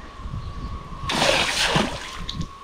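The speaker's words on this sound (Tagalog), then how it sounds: "Maglagay tayo ng tubig dito. Para naman madagdagan yung tubig." Water pours into a container outdoors, a sudden close splashing gush that starts after a moment of quiet and runs steadily before tapering to sloshing trickles.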